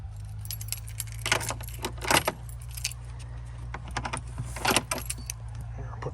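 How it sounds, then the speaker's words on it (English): Door keys jangle on a ring in several bright bursts as someone hunts for the right key at an old schoolhouse door, over a steady low hum, with no talking. "See if I got the right key."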